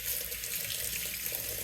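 Tap water runs steadily into a sink to rinse basil, a constant close splashing hiss with no pauses.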